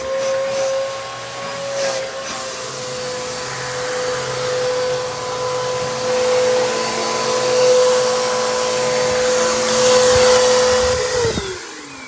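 A household vacuum cleaner, either a Bissell PowerTrak compact or a Hoover WindTunnel, runs its suction in a steady, loud drone with a whining motor tone close by. The motor winds down at the end, and no one speaks.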